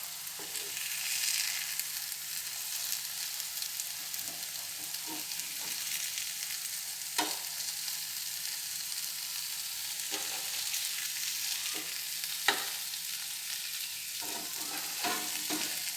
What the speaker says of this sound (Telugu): ఇప్పుడు తిప్పిద్దాం ఎగ్ని.